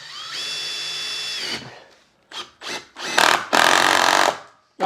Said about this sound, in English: I'm going to get a screw, I'm going to put it through thermal brake.